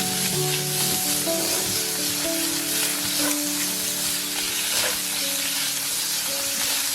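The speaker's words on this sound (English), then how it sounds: "Then toss in the marinated crab meat and stir-fry it briefly." Marinated crab meat stir-frying in a hot skillet with golden sautéed shallots, giving a loud, continuous sizzle and hiss with occasional scraping stirs, close up and with no talking.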